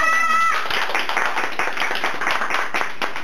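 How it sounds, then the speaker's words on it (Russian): Children clap their hands at a birthday party, brisk rapid clapping that starts after a brief sung note and continues steadily, moderately loud and close. "Все хлопаем, руки наверху."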